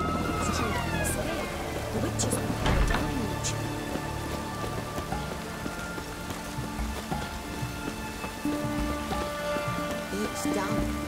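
Rain falls steadily in The Witcher 3, a dense hiss of drops spread across the whole clip under game sounds and bits of talk.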